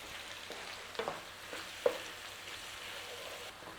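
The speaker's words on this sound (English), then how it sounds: "So just break up your mince as we go along." Beef mince fries in a pan, a soft continuous sizzle broken by a few scraping stirs as a utensil breaks up the meat, with no talking.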